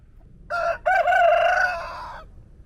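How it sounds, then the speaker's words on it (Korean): A rooster crows once, loud and close, a single drawn-out call of about two seconds after a brief clucking start, heard alone on a quiet island boardwalk. "닭들이 나오니 놀라지 마세요."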